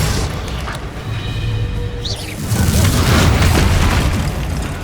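A Bombarda spell explosion in Hogwarts Legacy, a loud booming blast with crashing debris that swells and rolls on beneath a continuous roar of game noise.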